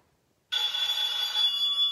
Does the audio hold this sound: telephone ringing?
yes